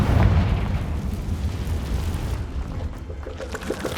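Confringo, a fire spell in the Hogwarts Legacy video game, goes off as a loud booming explosion that rolls into a crackling, fading rumble; no voices over it.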